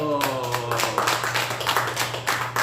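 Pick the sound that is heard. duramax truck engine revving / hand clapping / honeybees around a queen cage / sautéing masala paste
hand clapping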